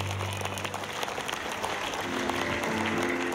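Brief burst of audience applause at a live stage show, many hands clapping together at a steady level for a few seconds.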